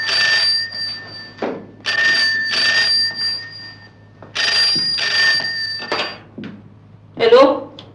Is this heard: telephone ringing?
yes